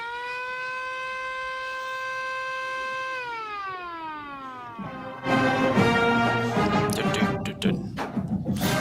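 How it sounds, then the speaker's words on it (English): A single steady siren wail holds its pitch, then winds down, giving way to loud crowd noise and cheering at a college football game. "we will play a little bit of the siren."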